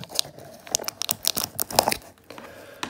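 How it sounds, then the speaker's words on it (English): Scissors slice open a cardboard box holding fossils, giving a run of sharp, close snips and tearing crunches in an irregular rhythm, with a brief quiet pause before a few final cuts. "let's take the handy dandy scissors and cut it open"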